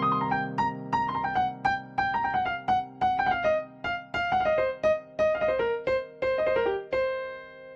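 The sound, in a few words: piano blues scale slingshot run with blue note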